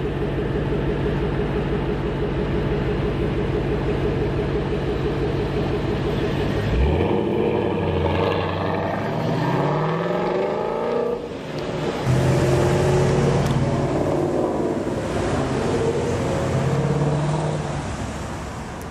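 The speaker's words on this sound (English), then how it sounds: "a clip was recently released of the GT500 at a stoplight just taken off and at idle, and honestly it sounds f***ing amazing" A 2019 Mustang GT500 with a supercharged 5.2 V8 idles with a deep steady rumble at a stoplight, then takes off with a loud, rising roar, settling into sustained high revving before easing off.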